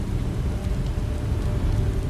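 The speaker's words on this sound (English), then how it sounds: "More rain." Steady rain falls in the video game Beast of Reincarnation, a dense, continuous low hiss with a soft rumbling undertone, alone and unbroken.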